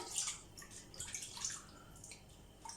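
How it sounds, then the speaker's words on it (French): A hand dips and splashes in a bowl of water while Congolese doughnut dough is being shaped, with soft close drips and small sloshes in a few brief bursts, faint and with no talk. "je vais tremper ma main dans l'eau"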